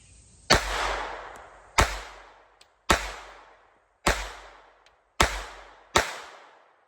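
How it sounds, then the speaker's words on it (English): Six sharp, loud shots from a Haenel Schmeisser Model 1 pistol firing PPU 50-grain full metal jacket 25 ACP rounds, spaced about a second apart, each a crisp crack with a short decaying tail and no talk between. "All right, getting ready to shoot the Haenel Schmeisser Model 1."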